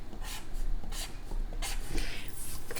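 A marker or chalk scratches across a classroom board in short repeated strokes, close and fairly loud, with rhythmic squeaky bursts and no talking.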